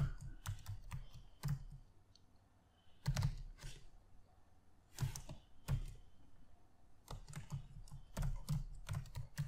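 Computer keyboard typing in bursts of quick, close key clicks, with short pauses between runs of keystrokes while a name is entered into a Java Swing text field.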